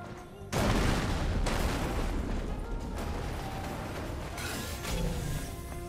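A loud, sustained explosion in the video game Stellar Blade erupts with heavy rumbling and crackling debris, staying dense and noisy for several seconds.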